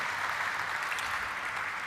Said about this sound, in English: I think it's a huge round of applause to everybody on that.